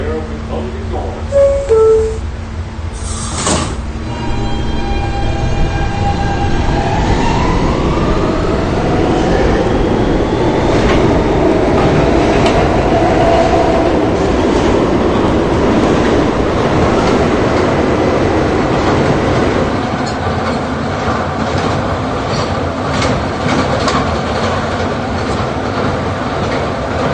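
An R160 E subway train bound for World Trade Center opens with chime tones, then accelerates into a loud, continuous rumble and rattle of wheels with rising whine, heard from inside the car, with some voice over the noise.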